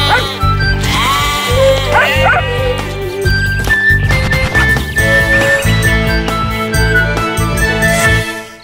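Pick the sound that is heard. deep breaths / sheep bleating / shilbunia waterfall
sheep bleating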